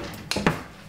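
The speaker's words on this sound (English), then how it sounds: "what we're gonna do is just cut them up" Three cooked medium eggs are cut up for potato salad, giving two close, sharp knife taps on a board or dish against a quiet kitchen background.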